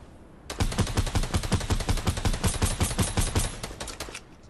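Rapid automatic gunfire in a lightsaber-themed online shooter game, a steady burst of dense shots lasting about four seconds, loud and close with no talking over it.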